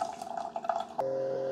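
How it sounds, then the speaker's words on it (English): A Keurig K-Cafe coffee maker in vinegar descaling mode dispenses hot water, with a soft trickling, dripping stream that settles into a steady, even flow and an electronic hum near the machine. "And it says descaling mode, dispensing hot water."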